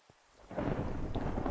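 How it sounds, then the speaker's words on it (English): A thunderstorm in a video game, heard as a short low rumble of thunder swelling up with rain hiss over about a second, alone without talk. "Thunderstorm?"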